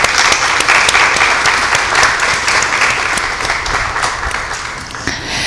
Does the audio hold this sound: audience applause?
yes